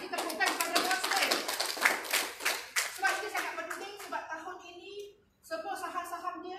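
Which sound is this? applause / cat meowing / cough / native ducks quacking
applause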